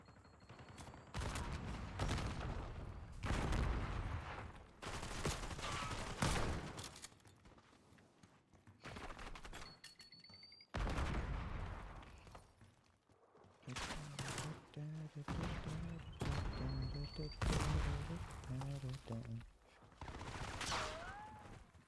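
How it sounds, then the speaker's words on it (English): Bursts of automatic gunfire in Call of Duty Black Ops 6 multiplayer, repeated volleys across the stretch with brief gaps, mixed with game effects and occasional footsteps. "He's shooting at me."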